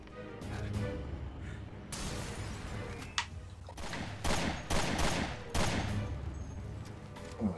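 Gunfire in the video game Resident Evil Revelations 2, a burst of rapid repeated shots and booms after a quieter stretch, fairly loud and dense with a few sharp single cracks.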